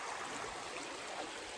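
A countryside stream flows at the bottom of a dale in bare-tree season, giving a steady, moderately faint broadband rush of running water with no voices.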